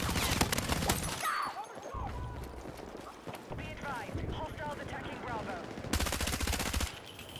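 UMP submachine gun fire in Battlefield 6, rapid automatic bursts that open and close the moment, loud and close, with other battle noise and distant shots in between and voices talking over the action.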